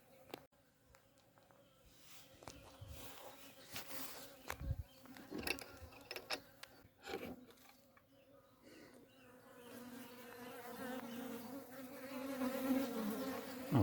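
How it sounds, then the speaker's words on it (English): Scout bees buzzing in and around a swarm trap in a forest garden, a close, uneven hum with individual bees droning past, gradually thickening into a fuller, louder buzz. "just a million scout bees"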